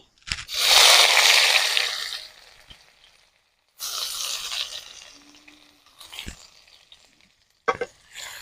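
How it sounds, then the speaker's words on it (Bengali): Chopped onions hitting hot oil in a kadai, a loud close burst of sizzling that fades, then further bursts of frying hiss and stirring scrapes with quieter gaps between, no voices. "এবার আমি দিয়ে দিচ্ছি কড়াইতে পেঁয়াজ কুচি"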